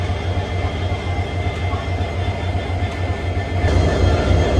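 Express train locomotive at a railway station platform, giving off a steady low rumble that swells slightly toward the end, with no voices.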